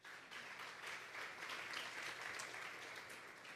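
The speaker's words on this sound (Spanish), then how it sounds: "Vamos a darle un fuerte aplauso al Señor." A church congregation at a Sunday service gives sustained applause, a steady, even wash of many hands clapping that is fairly faint and distant, with no talking over it.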